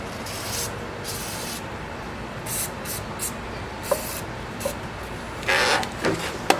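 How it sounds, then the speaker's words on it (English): Several bursts of aerosol gel lube spray hiss close by from a can, some short and some longer, separated by pauses with faint rubbing and clicks. "I'll spray some of that on there."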